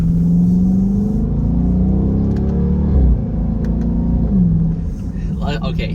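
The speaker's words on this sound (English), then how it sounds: "sorry, I had to listen to the exhaust there" Exhaust note of a Dodge Durango R/T on the road, a deep droning rumble that rises and falls as the engine pulls, with a shift in pitch midway; a voice speaks briefly near the end.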